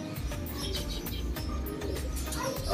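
Racing pigeons coo and chirp close by in a loft, with soft repeated calls over a breezy, rustling background.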